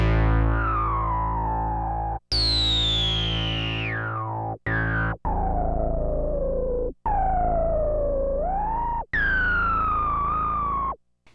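Behringer Model D synthesizer oscillator with resonant filter emphasis modulation, playing a series of loud, buzzy sustained notes with sweeping, wavering resonant peaks, some gliding down or bending, separated by brief gaps.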